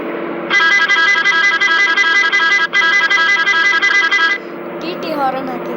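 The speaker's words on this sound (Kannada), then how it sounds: "TT ಹಾರನ್ ಹಾಕಿದ್ದಾರೆ." A loud, melodic multi-tone TT horn on a modded VRL Vijendra bus in the Bus Simulator Indonesia game blares continuously for nearly four seconds with one brief break, then cuts off into quieter engine noise.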